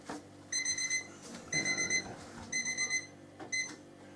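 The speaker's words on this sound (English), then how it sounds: "I think it was done about 3 minutes before that little timer went off." A small kitchen timer goes off in a home kitchen where nettle soup is cooking, four bursts of rapid high beeping spaced about a second apart, moderately quiet with no talk.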